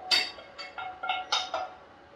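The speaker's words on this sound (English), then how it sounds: "I'm going to transfer them into my little pan here" Cooked mushrooms spooned into a small pan, giving a quick run of about six light clinks and scrapes of utensil on metal, close and fairly soft, with no talking.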